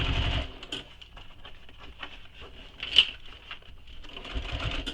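A sewing machine stitches the gusset of a bowler bag in short, uneven runs, a fast faint whirring chatter that starts and stops close by, with a brief clack midway.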